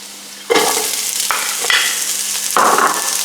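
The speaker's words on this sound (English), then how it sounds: "Just let that fry in the oil just for 30 seconds or so" Chicken fajita ingredients, starting with garlic, fry in hot oil in a pan, a steady close sizzle that flares up in louder bursts as food is stirred or added, with no talking.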